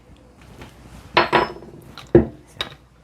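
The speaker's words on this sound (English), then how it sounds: "As I was clearing things away to move the donut pans over to get them ready" Metal donut pans and dishes clatter while a home baker clears up, with a few loud clanks and scrapes in irregular bursts over a quiet kitchen background.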